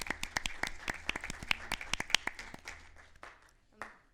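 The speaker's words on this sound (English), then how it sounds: "Let's give her a round of applause." Applause at a city council meeting, a small group clapping in distinct sharp claps that thin out and fade, ending in a few scattered final claps.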